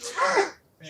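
A single sharp sneeze up close, a brief burst followed by a short pause and a faint trailing sound.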